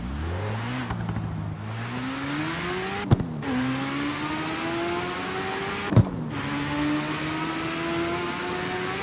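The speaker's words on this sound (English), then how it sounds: "The rotary engine just screaming its head off" Rotary-engined car in the CarX Street racing game revving hard, a steady high-pitched engine scream climbing in pitch with two sharp gear-shift breaks, loud and close throughout.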